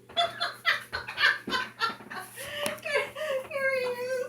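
A woman imitates a rooster crowing with a string of rising, clucking vocal bursts, ending in a long wavering crow-like call, close and fairly loud with laughter-like breaths between.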